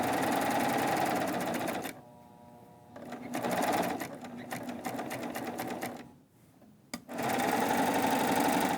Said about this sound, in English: I'm going to turn my fabric and serge off the edge.